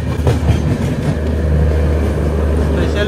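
A Shalimar–Kochuveli special train rolls past near Gudur Junction, a loud low rumble of wagons and wheels with a faint clatter, steady throughout the few seconds.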